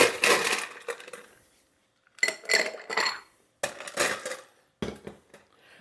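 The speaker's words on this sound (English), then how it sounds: "let's ice it up and chill it down" Ice dropped into a metal cocktail shaker tin, several sharp clattering bursts of cubes striking metal with short quiet gaps between them, close and clear.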